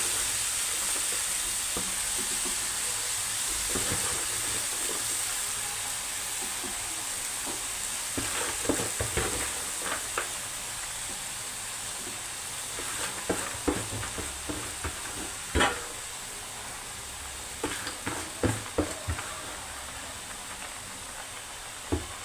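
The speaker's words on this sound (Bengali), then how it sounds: "এখন আমি শাক দিয়ে দিচ্ছি।" Fresh spinach hits a hot pan with a shrimp dish cooking, setting off a loud, steady sizzle and hiss that runs throughout, with scattered crackles and stirring clatters building in the later half.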